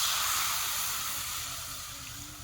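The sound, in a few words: water added to frying curry, hissing sizzle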